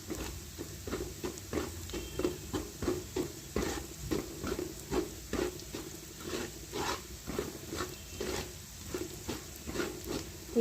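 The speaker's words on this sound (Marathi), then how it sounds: "या तेलामध्ये हिंग टाकून घेऊया। मंद गॅस करायचा आहे" Asafoetida sizzles softly in oil over a low flame as a tempering for crispy puffed-rice chivda, with a steady quiet fry and a regular rhythm of stirring scrapes throughout.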